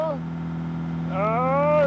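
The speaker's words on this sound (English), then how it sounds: "That is some intense engine deceleration. It doesn't want to build revs." An engine with heavy exhaust back pressure drones steadily at low pitch, then its tone climbs slowly and strains as it labours to gather revs.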